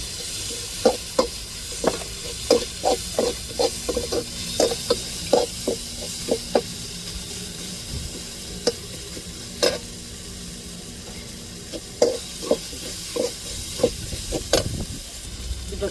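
Curry leaves with ginger garlic paste frying in a hot pan, a sustained sizzle broken by repeated sharp scraping stir strokes in quick bursts, close and clear, no talking.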